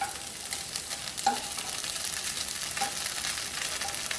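Idli pieces roasting in a pan, flipped to brown the other side, giving a steady close sizzle throughout with a few scraping stir sounds over it, no voices.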